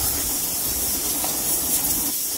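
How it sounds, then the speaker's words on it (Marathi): Finely chopped onions sauté in oil with cumin and curry leaves, producing a constant close hiss and sizzle with no voices. "नंतर टाकलेत बारीक चिरलेले कांदे। परतून घेणार आहे कांदे।"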